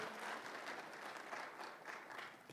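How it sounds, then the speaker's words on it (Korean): Audience applause at a railway New Year's gathering and safety resolution ceremony, a faint, steady crowd of clapping hands that holds for a few seconds with no voices over it. "박수 보내주십시오"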